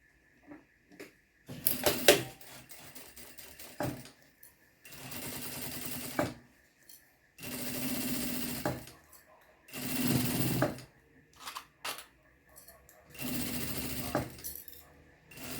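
A sewing machine stitches a makeup bag in several short bursts of rapid mechanical whirring, separated by pauses with small clicks and handling noises, close and fairly loud.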